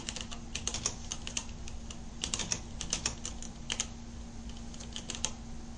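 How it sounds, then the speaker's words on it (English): Rapid, uneven clacking of keys on a computer keyboard used with a Braille TTY system, steady bursts of keystrokes with short pauses, close and moderately loud, no voices. "And then of course I type on this keyboard."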